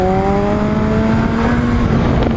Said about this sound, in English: I'm in second gear. I'm gonna throttle out, clutch up